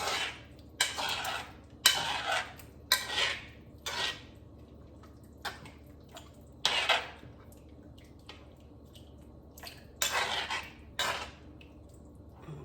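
Spoon scraping and clanking against a pot while brown stew chicken with allspice is stirred, a series of separate metallic knocks and scrapes with quiet gaps between, close and fairly faint.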